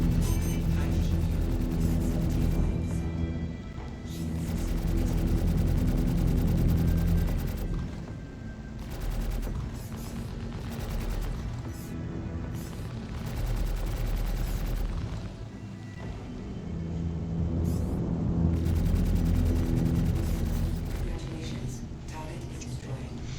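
Turret gunfire from a Cutlass Black ship in Star Citizen builds into dense, sustained volleys with a low rumble, swelling and easing in waves over the whole stretch.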